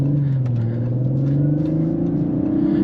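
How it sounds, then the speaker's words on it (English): A 2021 Audi RS5 Sportback with a 2.9-litre bi-turbo V6 under steady load from inside the cabin, a loud continuous engine drone with slowly rising pitch and faint turbo whistle above it. "You can hear some of the turbos."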